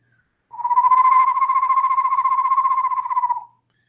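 A person imitates an eastern screech owl: one steady, quavering trill on a single pitch, held for about three seconds with nothing else around it.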